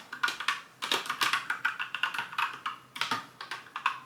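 Steady typing on a computer keyboard, fairly close and alone, with quick bursts of clicking keystrokes broken by brief pauses over a few seconds.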